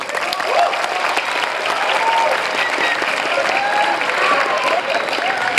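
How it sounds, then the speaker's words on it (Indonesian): A crowd at a religious lecture gathering for the Prophet's birthday (Maulid) applauds, giving dense, sustained clapping that stays even for several seconds, with faint voices mixed in. "Tolong tepuk tangan buat NU."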